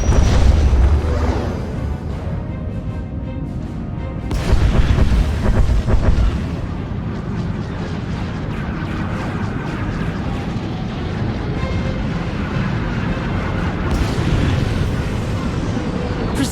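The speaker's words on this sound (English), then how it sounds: "Proceeding with bombardment, targeting all major population centers." Starship bombardment in Star Wars: The Old Republic rumbles as deep, booming explosions and heavy low roar, with loud bursts near the start and around the middle over a constant battle din.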